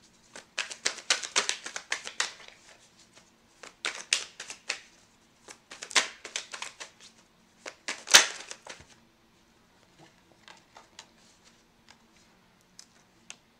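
Tarot cards are shuffled in several crisp, riffling bursts with short pauses between, ending in a sharp snap and a few faint taps.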